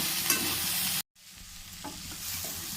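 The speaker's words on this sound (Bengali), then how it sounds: "এগুলো মশলা দিয়ে ভেজে নিয়েছি।" Vegetables mixed with spices fry in a pan, giving a steady loud sizzle with stirring scrapes. The sound cuts out briefly, then returns as a quieter sizzle with a few soft knocks.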